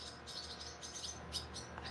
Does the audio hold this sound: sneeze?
no